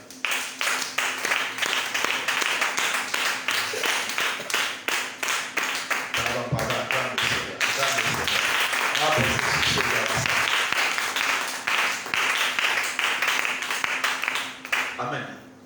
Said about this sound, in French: Si tu m'as compris, acclame le Seigneur.